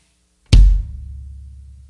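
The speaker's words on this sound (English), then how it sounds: "Next up, we have the bass drum," A single bass drum hit on a drum kit, a deep punchy thump with a sharp attack followed by a low, booming decay, heard alone and close.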